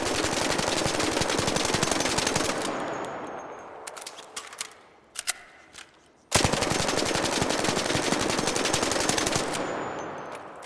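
Sustained full-auto gunfire from a weapon fitted with a muzzle brake in a video game: a dense, loud rapid burst, a few seconds of sparse clicks and clanks, then another long continuous burst.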